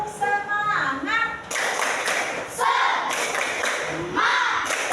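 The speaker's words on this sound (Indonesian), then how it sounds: "Tepuk semangat." A group performs a rhythmic clapping chant during a teacher training session, voices chanting in unison with bursts of claps and thumps in a patterned rhythm.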